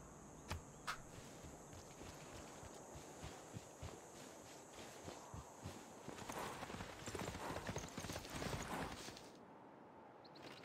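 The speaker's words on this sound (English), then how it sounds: "Horses." In the strategy game Civilization 6, horse hooves clip-clop in a steady walking rhythm over a dense game soundscape, with a couple of sharper knocks early and a louder swell of activity toward the end.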